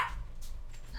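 A dog gives a few short whimpers and a muffled bark indoors in a basement, fairly close but not loud, with no talk over it.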